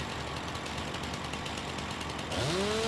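A harsh, buzzing chainsaw in the video game Farming Simulator 19 roars continuously and loudly, then its pitch swoops upward near the end.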